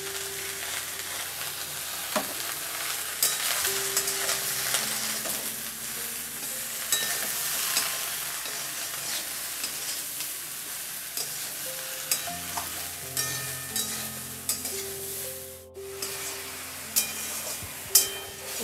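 Ridge gourd stir-fries in a pan for a Bengali ridge gourd posto, a steady sizzle punctuated by repeated spatula scrapes and stirring knocks, with no one talking.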